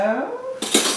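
Wet ingredients for gluten-free zucchini bread are mixed in a bowl: a brief ringing clink of utensil against the bowl, then a loud short clatter, close by.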